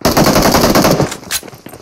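Loud, rapid automatic gunfire from a PUBG Mobile match, a dense burst of shots fired close up for about a second, followed by a few scattered single reports.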